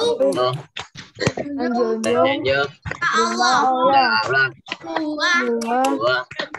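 Young schoolchildren in an Indonesian lesson chant in unison while clapping rhythmically, voices dominant with quick hand claps punctuating the rhythmic phrases.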